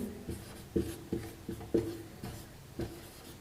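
A pen scratches a formula onto paper by hand, producing a series of short, close rubbing strokes in an irregular rhythm, quiet and alone.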